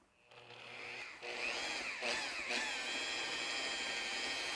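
A car polisher buffs polishing cream into paintwork with a polishing pad, a steady, close motor whine with a slight grind that rises after a brief quieter start and holds evenly throughout.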